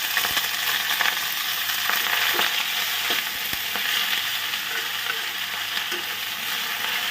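Garlic and bottle gourd leaves fry in a pan with a steady, bright sizzle, broken by occasional scraping clicks of stirring.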